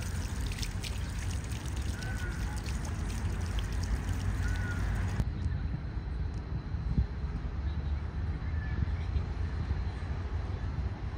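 Water from a fountain, its main jets not yet switched on, trickles and pours in a steady faint stream outdoors, continuing alone throughout.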